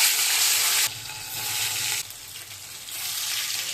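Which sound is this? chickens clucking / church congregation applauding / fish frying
fish frying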